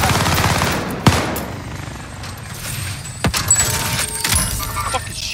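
Video game gunfire crackles in sharp bursts, with several loud distinct shots and rattling volleys, while a player talks over the action.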